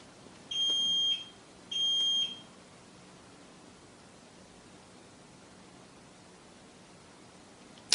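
Security alarm system sounding two short, steady electronic beeps as it is set from the keypad, clear and moderately close, followed by quiet room tone.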